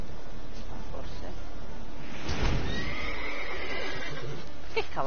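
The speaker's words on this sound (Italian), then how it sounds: "Che cavallo si spaventa?" A frightened horse in the video game The Witcher 3 gives a loud neigh midway through, with hoof clip-clops and game ambience around it.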